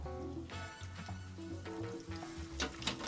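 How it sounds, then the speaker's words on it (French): Breaded monkfish fillet lowered straight into a deep fryer, giving a soft bubbling sizzle mixed with light metallic clinks from the basket, fairly quiet and close. "on trempe directement dans la friteuse"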